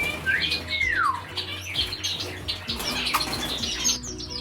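Chirps and whistled calls from an 18-year-old pet bird named Mikey, heard up close by its cage, with a rising-and-falling whistle early on and busy, continuous tweeting throughout.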